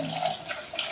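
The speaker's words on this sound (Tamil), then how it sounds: "இப்போ கொஞ்சமாக புளி தண்ணி ஊற்றிக்க போகிறேன்." Tamarind water is poured into a pan of curry as a brief, steady watery splash, close and moderately loud, lasting about a second.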